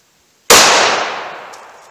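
A single sharp, loud gunshot from a .45 ACP pistol with a 5-inch barrel fired over a chronograph, cracking abruptly out of silence and ringing off in a long decaying tail.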